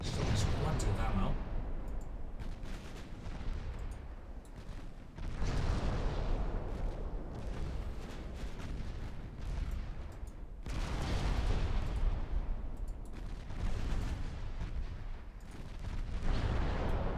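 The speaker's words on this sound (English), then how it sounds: "That is some nice looking salvos though." Naval gun salvos from warships in Ultimate Admiral Dreadnoughts, set in the Baltic, boom as heavy, sustained barrages. Loud rolling bursts repeat about every five seconds over a constant rumbling background.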